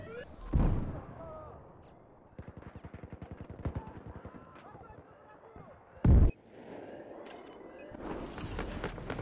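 RPG rocket explosion in Battlefield 4 on the Golmud map: a single loud, short blast midway, surrounded by rapid machine-gun bursts and scattered gunfire on a battlefield, with a voice talking over it.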